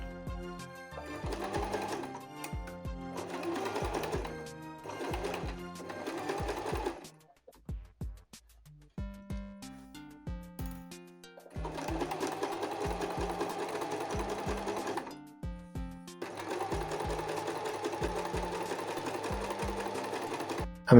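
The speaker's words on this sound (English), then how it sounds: "put them on the body part of the coat, and sew along this line" A sewing machine stitches the sleeves of a small doll coat in several bursts of rapid mechanical clatter, with short pauses between the runs. The sound is close and fairly quiet, with no talking.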